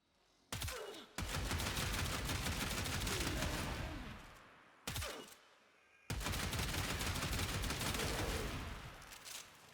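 Buzlok rifle in the Warframe video game fires homing projectiles in two long, loud rapid-fire bursts, each opened by a sharp crack and separated by a brief pause.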